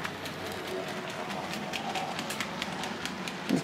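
Model trains running on a miniature railway through an illuminated little village, a steady low rumble with faint clicking and rattling throughout, distant and even, ending in a brief louder bump.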